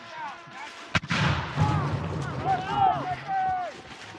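A single sharp musket volley from American Revolutionary War reenactors cracks out close by, followed by a rumbling echo as commands and other voices carry on around it.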